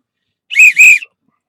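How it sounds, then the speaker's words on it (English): A real metal whistle, not a toy, blown twice in quick succession, loud and shrill, close by with no talk over it. "It's a real whistle, man."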